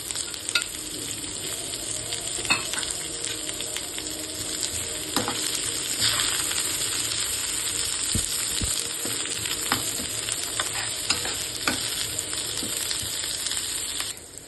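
Curry leaves hit hot oil for a mutton pepper fry, a steady crackling sizzle with scattered pops and spatters, close and continuous throughout.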